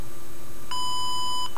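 An MTS mobile telephone system sends a steady electronic tone as the zero key is pressed and held, lasting under a second over a constant hum.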